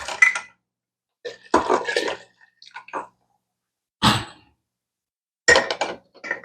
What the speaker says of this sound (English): So with all this water we're pouring back in here